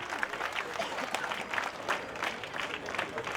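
Children applaud the MLA at a school annual day celebration, a steady, fairly distant wash of many small hands clapping together, with crowd murmur underneath.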